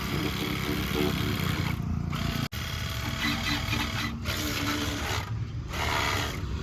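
A cordless pressure washer for cars and bikes runs steadily with a loud broadband mechanical whir and spray hiss, briefly cutting out once, then resuming and continuing to the end.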